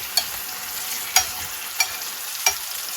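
Sautéed mushrooms and purple onion being dished out of a pan with a few sharp utensil scrapes spaced apart over a continuous close sizzle, no one talking.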